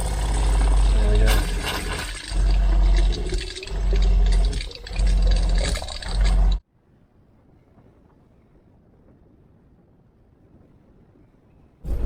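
Water pumped through a tank pump and filter on an old Land Rover overland trip in Namibia: a loud, steady rushing and pumping churn with rhythmic surges, which cuts off abruptly into near silence.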